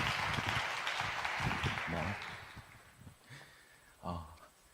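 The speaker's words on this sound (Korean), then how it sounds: "큰 박수로 환영해 주시기 바랍니다." Congregation applause at a church youth service welcoming a pastor, clapping strongest at first and fading out over a few seconds, with a voice speaking over it.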